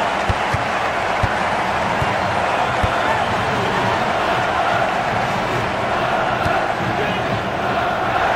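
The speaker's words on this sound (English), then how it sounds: "Listen to this crowd." Stadium crowd in the FIFA Football 2004 video game, a steady dense roar of cheering and chanting that holds throughout with no pause.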